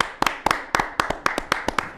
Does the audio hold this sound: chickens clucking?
no